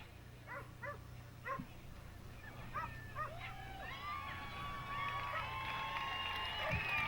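During a USDAA Grand Prix agility run, a dog gives a few sharp, quick barks at medium distance. Crowd noise and whistles or squeaks build behind it, and a voice comments faintly.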